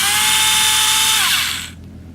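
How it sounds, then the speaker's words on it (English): Small hand drill boring little holes in terrain material at a hobby workspace, a close, high-pitched whine that runs steadily, dips in pitch, then winds down and stops abruptly. "my little hand drill the other month, which makes it so much easier to drill out these little holes."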